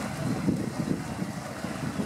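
Twin-engine sea safari boat heading out toward the Grassholm gannet colony, with a steady low engine rumble and churning water mixed with buffeting wind noise throughout.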